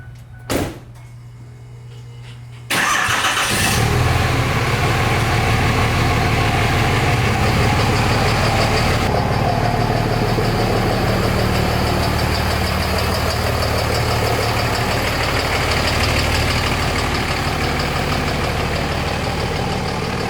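A Cummins-swapped Ford truck engine cranks over and fires after a few seconds of quiet and a clunk, then settles into a loud, steady diesel idle with a faint knocking rattle, close by and with no talking.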